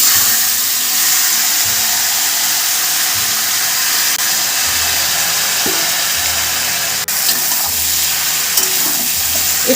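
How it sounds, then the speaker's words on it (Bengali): Pieces of fried ash gourd put into hot oil in a wok, with green chillies, sizzle loudly and continuously with a steady hiss, broken by faint clinks of stirring. "এবার আমি এই তেলটার মধ্যে ভেজে রাখা চাল কুমড়োগুলো দিয়ে দিচ্ছি।"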